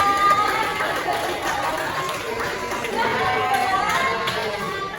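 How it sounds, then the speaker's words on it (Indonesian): A classroom of students applauds a group, with mixed chatter and voices over a continuous, moderately loud patter of clapping that lasts throughout. "Tepuk tangan untuk kelompok 4."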